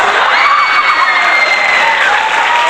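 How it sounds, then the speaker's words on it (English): A crowd applauds loudly and continuously, with scattered whoops and cheers mixed into the steady clapping. "You guys want to give me a little applause?"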